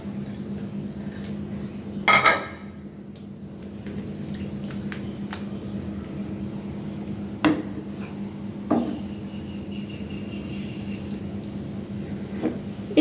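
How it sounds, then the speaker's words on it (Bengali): Tomatoes tumble into a pan of simmering gravy for a boal fish curry, giving a few soft thumps and clinks of pan and utensil over a steady low bubbling hum, with no talking. "ঝোল দেওয়ার পর আমি টমেটোগুলো দিয়ে দিচ্ছি"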